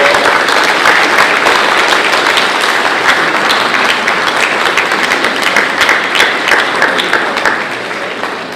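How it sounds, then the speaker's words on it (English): Audience applause at a banquet, a dense, steady wall of clapping from a large crowd that holds loud throughout and tapers slightly at the end. "Give them a round of applause."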